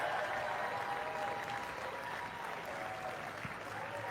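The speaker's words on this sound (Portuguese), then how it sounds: "O público aplaude a Melania." A large audience at a presidential speaking event applauds steadily, a dense, even wash of clapping heard from a distance with a hint of crowd noise throughout.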